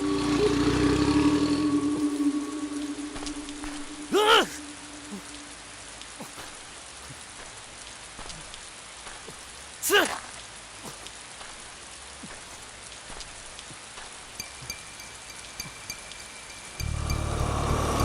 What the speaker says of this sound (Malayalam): മഴ കനക്കും